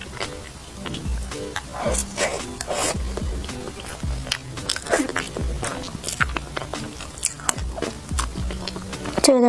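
Close-up biting and chewing of a Jiang Duoduo dessert, with soft crunches, squishy wet mouth sounds and rubbing packaging noises in an uneven rhythm, loud and intimate with no talking.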